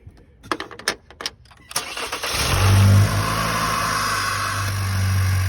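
Clicks and a cranking starter give way to a 2017 Chevy Malibu engine catching after an oil catch can install, briefly revving up, then settling into a steady, loud idle close by.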